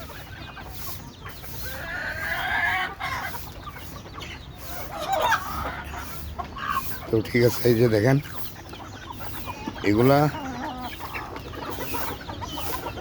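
Hens in a poultry house cluck in scattered bursts, with some louder calls near the end, while someone talks over them.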